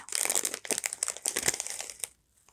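Plastic packaging crinkles and rustles steadily as a pack of preserved hydrangea flowers is opened for a herbarium lamp craft, close and continuous before stopping abruptly.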